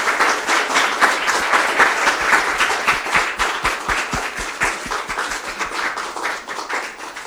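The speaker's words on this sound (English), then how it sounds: "let's give a huge round of applause to Mr. Mathi Vathanan" A conference audience at a fireside chat session gives sustained, loud applause, many hands clapping in a thick continuous patter that eases off slightly toward the end.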